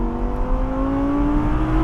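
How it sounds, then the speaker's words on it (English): An Audi R8 V10 Spyder engine revs close up, a loud, steady, rising mechanical drone with strong low tones climbing smoothly in pitch, with no speech. "you just never get tired of hearing that V10"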